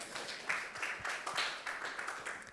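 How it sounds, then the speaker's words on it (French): A dense, steady patter of audience clapping at a startup awards ceremony as a prize is presented, moderately loud and continuous for a few seconds. "On applaudit Clotilde et les équipes de BNP Paribas."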